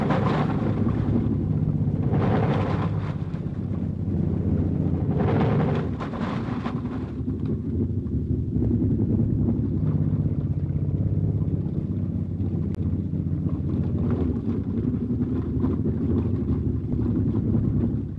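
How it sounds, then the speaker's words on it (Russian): A wartime Ford GPA amphibious vehicle runs on water during army testing, its engine a low, steady rumble mixed with wind buffeting and washing water, loud and continuous throughout. "Новые автомашины «Амфибии» проходят испытания."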